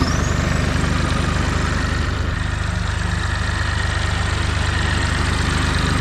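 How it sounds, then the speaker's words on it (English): A Bandit stump grinder's engine runs loud and close at a steady, even drone, a constant mechanical rumble with a faint high whine and no voices. "I like his stump grinder, but there is one little drawback on this thing I'm going to show you."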